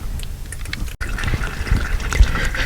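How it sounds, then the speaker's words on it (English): Engine oil drains from a 2019 Honda HR-V into a catch pan, a steady liquid pour with continuous splashing and gurgling, close and fairly loud. "so it's still draining right there."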